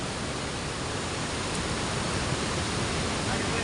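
Pondol Falls after typhoon flooding: a heavy, continuous roar of rushing water, broad and steady with no breaks, close and loud, filling the whole stretch.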